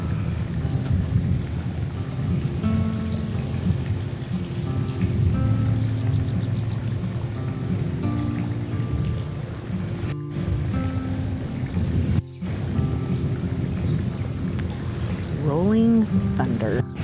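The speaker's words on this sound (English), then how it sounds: "Rolling thunder." Deep rolling thunder rumbles continuously under steady rain, a dense low roar filling the background for the whole stretch.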